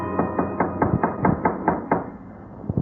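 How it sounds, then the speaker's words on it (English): Knocking on a door of a dingy room beside a poultry shop: about nine firm, evenly spaced raps in a steady run, close and clear, with no voices over them. "we were knocking on the door of a dingy room next to the poultry shop."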